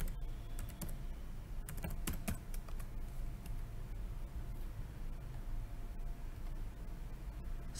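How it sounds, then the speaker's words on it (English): Light, scattered keystrokes on a computer keyboard, heard close against a steady background hiss, with a few sharper clicks here and there and no talking. "type in battleship"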